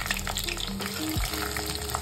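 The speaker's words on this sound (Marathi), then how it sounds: "तेल चांगलं तडतडीत गरम झालेलं आहे, तर हा कांदा आपण ऍड केलेला आहे।" Chopped onion sizzles in two spoons of hot oil in a kadhai while cooking aloo methi sabji, a loud continuous crackling fry with faint stirring clatter and no talking.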